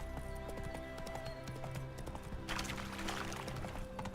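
Roach, the horse in The Witcher 3, clip-clopping at a brisk pace with crisp regular hoof strikes that sharpen and quicken partway through.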